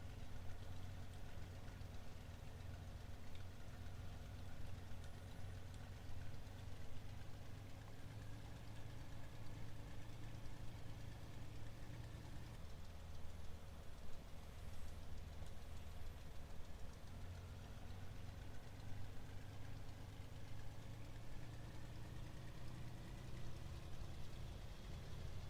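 Steady, low engine drone of a MilViz Junkers Ju-87 Stuka taxiing in FSX, a continuous faint propeller rumble with a constant hum and a slight pitch shift midway.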